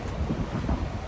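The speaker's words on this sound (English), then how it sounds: "Hopefully you can actually hear me over the wind because it is really windy today." Strong wind blows across the microphone outdoors on a really windy day, a dense, continuous rumbling buffet with low gusty surges, loud and with no talk.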